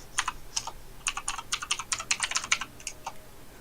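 Fast, irregular clicks of fingers typing on a computer keyboard, close and fairly quiet, with bursts of keystrokes separated by short pauses.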